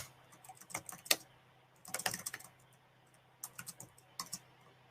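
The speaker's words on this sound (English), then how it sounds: "Did you just laugh because of the sound that my keyboard made?" Bursts of typing on a computer keyboard during an online Arabic reading lesson, with quick clustered key clicks in three separate runs against a quiet background hum.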